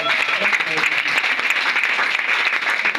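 A church congregation applauds together in a dense, even burst of clapping, with voices mixed into the crowd.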